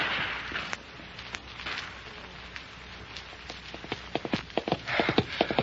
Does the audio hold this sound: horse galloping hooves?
yes